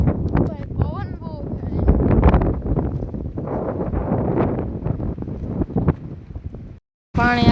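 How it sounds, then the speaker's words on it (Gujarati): Strong wind gusts outdoors roar and buffet the microphone in a loud, rumbling rush. Someone talks over it throughout, and a short dropout near the end cuts everything to silence. "ભાઈ પવન બહુ"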